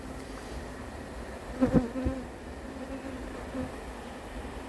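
A swarm of honeybees being gathered into a cardboard box at Varennes-sur-Seine hums as a steady, moderately quiet buzz, broken by a brief burst of bumping and handling noise near the middle.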